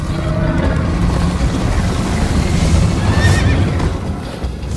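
A horse whinnies over steady galloping hoofbeats and rushing background noise in the video game Minecraft: Story Mode, loud and close throughout.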